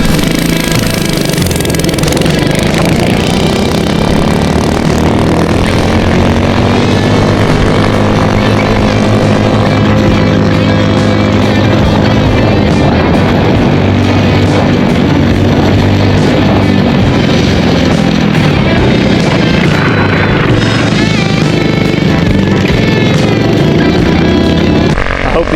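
A drift kart engine roars loud and steady during a timed there-and-back speed run, droning continuously with a buzzy, rising and falling pitch throughout.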